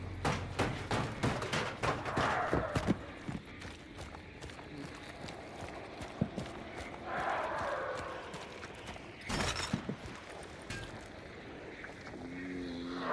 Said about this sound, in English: Actually, I just heard a horse.